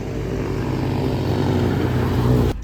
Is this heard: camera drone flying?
yes